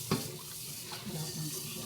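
Tap water running steadily over beef being washed in a sink, a soft continuous stream with a brief clunk at the start, and a voice talking faintly over it.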